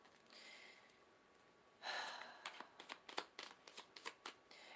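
Tarot cards shuffled by hand in a quiet room, a soft rush of sliding cards followed by a run of crisp, irregular riffling slaps and flicks as cards are drawn, close and moderately loud with no talking.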